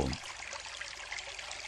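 Soft, steady trickling spring water flows quietly, a faint continuous babble with no voices.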